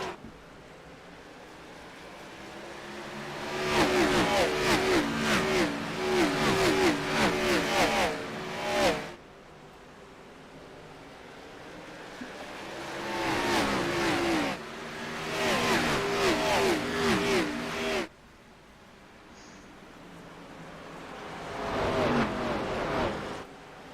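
NASCAR Xfinity race cars at Richmond roaring past in waves, engines swelling loud as the pack passes and fading between groups, several passes in succession with the roar cutting off sharply.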